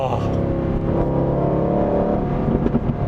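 An Aston Martin Vantage V8 exhaust drones loudly with a sustained, rising rev heard from inside the car, while someone talks over it.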